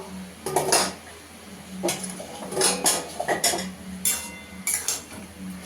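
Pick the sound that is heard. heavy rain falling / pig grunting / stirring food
stirring food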